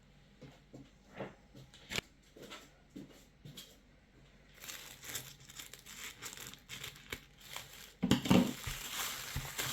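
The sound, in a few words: unwrapping tissue paper with scissors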